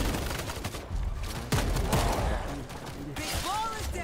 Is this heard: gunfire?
yes